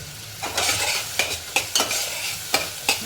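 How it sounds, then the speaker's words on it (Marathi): Onion and tomato cook with salt in a pan, giving a close, continuous sizzle while a utensil scrapes and taps the pan in repeated stirring strokes, with no voices. "थोडंसं हे कांदा आणि टॅमॅटो आपलं पटकन शिजवून घ्यायचं"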